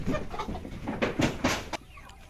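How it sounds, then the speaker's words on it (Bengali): Kuroiler chickens in a farm shed, a burst of close clucking and squawks in quick succession, then a quieter tail of background noise. "এখানে তো এটা বড় মুরগি রয়েছে"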